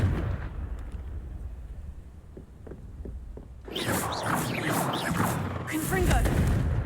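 Confringo explosive spell blasts in the Hogwarts Legacy video game, a dense burst of fiery crackling and rumbling effects that erupts midway and keeps roaring loudly to the end after a quieter stretch of ambient game sound.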